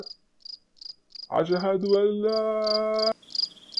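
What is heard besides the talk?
crickets chirping loudly at night, cartoon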